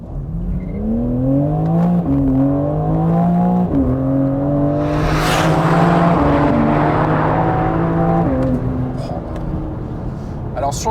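BMW M4 CSL pulling away on launch control on Michelin Pilot Sport 4S tires, a loud engine rising in pitch through quick gear shifts with a brief tire rip midway, recorded from inside the car.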